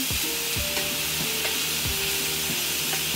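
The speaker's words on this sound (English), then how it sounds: "So I have my vegetable broth from earlier, and I'm going to add a little bit to this pan." Vegetable broth poured into a hot pan of sautéing tofu hisses in a steady, close sizzle, broken by a few soft scraping stirs, with no talking.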